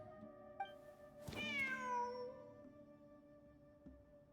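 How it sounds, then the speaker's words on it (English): An in-game cat in Genshin Impact lets out one clear, drawn-out meow with a rising then falling pitch over steady background music, sounding fairly close and standing alone without talk. "Wait, there it is! The cat!"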